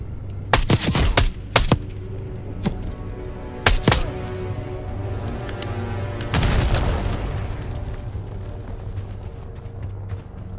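Frag grenade blast in Black Ops 6, a heavy booming explosion preceded by sharp gunfire cracks, followed by a long rumbling decay with lingering debris noise; no talking.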